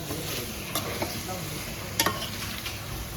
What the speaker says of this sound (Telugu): కలిపి ఒకసారి రెండు మొత్తం మసాలా అంతా పట్టేలాగా ఉల్లిపాయ మసాలా అంతా జాగ్రత్తగా కింద నుంచి పైకి